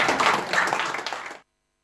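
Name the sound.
applause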